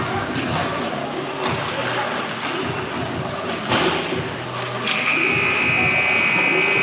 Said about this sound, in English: Got a buzzer here.